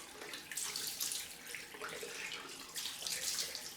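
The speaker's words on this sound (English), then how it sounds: "Cold rinse." A water tap runs for a cold rinse after a shave, a steady close hiss and splash of flowing water filling the whole moment without pause.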